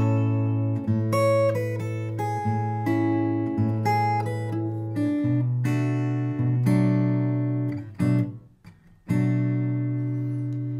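Fingerstyle acoustic guitar plays a sweet melody over a steady bass line and chords, plucked notes ringing close and clear in a continuous rhythmic pattern, with a brief pause near the end before the bass resumes, no talking.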